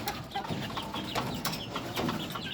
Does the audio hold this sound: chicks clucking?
yes